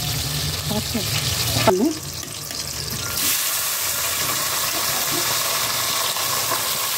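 Green chillies fry in a hot oiled pan with a steady, close hiss and sizzle, briefly broken by a louder stir or splash, while a voice speaks faintly underneath.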